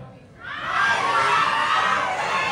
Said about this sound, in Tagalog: Sabi natin, I love Barbie. Sigaw tayo